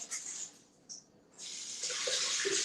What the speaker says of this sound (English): I like to run it under running water for a few seconds